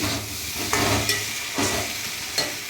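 Spices and tomatoes fry in a pan with a steady loud sizzle, while a spoon scrapes and stirs at regular intervals.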